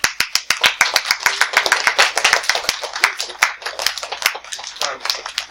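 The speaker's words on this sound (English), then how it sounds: "let's give her a hand." A classroom of students applauds together, a dense burst of quick, sharp claps lasting several seconds, with some voices mixed in under the clapping.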